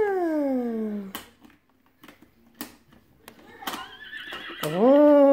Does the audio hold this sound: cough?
no